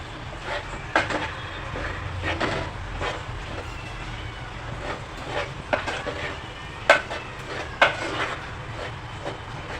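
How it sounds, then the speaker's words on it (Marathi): A dal puran filling is stirred in a pot on a gas stove, with repeated scraping strokes and occasional sharp knocks of the spoon against the pot over a low background rumble, close-up and without talk. "आता गॅसवर ठेवूया सुरुवातीला गॅस फास्ट केलेला आहे भांडं तापण्यासाठी आणि नंतर मग स्लो करा चांगलं घोटा"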